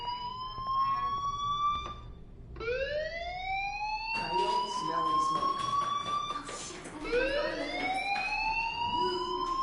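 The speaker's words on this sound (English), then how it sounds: "do you hear that fire alarm?" A fire alarm wails with rising, sweeping electronic tones inside the Life Is Strange video game. The wails repeat in overlapping cycles, loud and steady, and pulse over a constant background hum.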